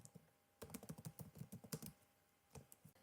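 Fast clicking keystrokes on a computer keyboard while typing a chat message, a dense burst of taps followed by a pause and a few final keys, close and clear with no talk.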